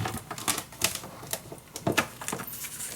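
Paper being cut in two while making a Christmas mini album; a series of quick, close, crisp snips and rustles in an irregular rhythm, with no talking.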